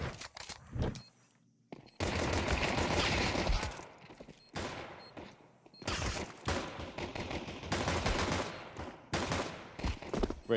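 Gunfire in a professional Counter-Strike match, including dual Beretta pistols, comes as loud rapid bursts and volleys of shots broken by short quiet gaps, with some footsteps and scraping between them.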